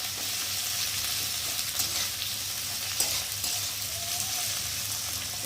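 Onion fries lightly in a pan, a steady close sizzle and hiss with occasional soft stirring scrapes and no voices.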